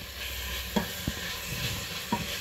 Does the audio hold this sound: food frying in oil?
yes